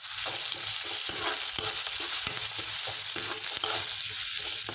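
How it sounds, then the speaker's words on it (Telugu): Spices for a broad bean curry tempering sizzle and fry in a hot pan, a steady close crackle with occasional stirring scrapes and no talking. "ఒకవైపు చిక్కుడుకాయ కూరకి పోపు అది వేసుకుంటున్నాను ఇక్కడ"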